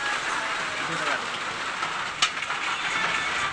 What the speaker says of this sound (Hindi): देखिए यहाँ पर बारिश हो रहा है